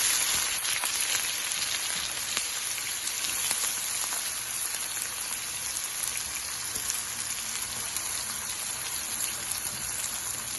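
Fennel and cumin seeds spluttering in hot oil, a continuous bright crackling hiss like rain on a surface, steady and close with tiny pops scattered through, and no voices.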